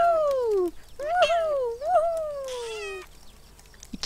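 Cats at a kitten sanctuary on a sunny day let out several close, clear meows, a few drawn-out calls in quick succession followed by a softer breathy sound.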